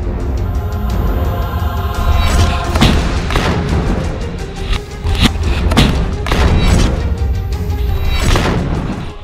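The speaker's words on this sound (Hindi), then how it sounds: "हमास की अल कसम ब्रिगेड के ये लड़ाके आरपीजी, थर्मोबैरिक ग्रेनेड, रॉकेट से इजरायली सेना पर बेहद पास से हमले कर रहे हैं।" Repeated heavy thuds and booms from RPG, thermobaric grenade and rocket attacks by Hamas fighters on Israeli troops at close range in war-ravaged Gaza, loud blasts recurring every second or two over a constant rumbling background.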